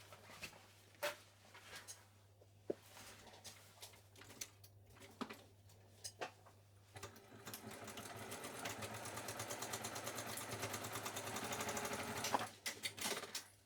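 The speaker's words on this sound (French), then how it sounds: "vous venez coudre un bon centimètre au point droit ici" A sewing machine stitches a straight seam on a lined, waterproof beach bag: scattered handling taps and clicks at first, then a long steady run of rapid stitching before it stops, close and fairly quiet.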